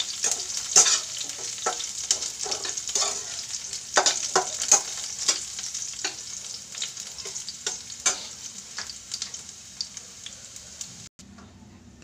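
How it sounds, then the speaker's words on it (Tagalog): Garlic frying in a pan for Filipino garlic fried rice, a steady high sizzle broken by frequent spatula clicks and stirring scrapes in an irregular rhythm, close and fairly loud, then cutting out briefly near the end. "Iprito ko muna ang aking pangsahog sa sinangag, guys. Yung mga bawang."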